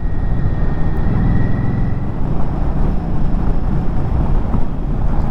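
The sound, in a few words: wind rushing while riding an Indian motorcycle at highway speed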